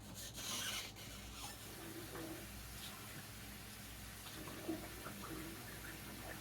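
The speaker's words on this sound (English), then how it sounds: "I'm going to wash my hands" Hands washed at a kitchen sink, with soft close rubbing and scrubbing over faint running water, fairly quiet and continuous with a few brief louder rubs.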